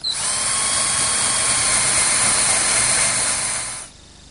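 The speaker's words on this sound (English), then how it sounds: "So now I can take this 1/4-inch brad point bit and drill in about a 1/2 inch" A power drill spins a 1/4-inch brad point bit into wood, one continuous high whine held steadily for several seconds before cutting off sharply near the end.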